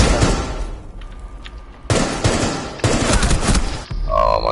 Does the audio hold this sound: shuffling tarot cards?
no